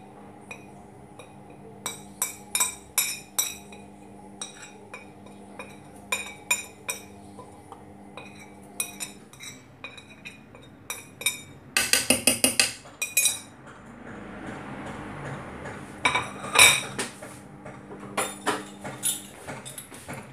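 Ingredients go into a cooking pot amid metal utensils clinking and tapping against it, in scattered bursts of sharp clinks and a rapid rattling flurry, close by over a faint background hum.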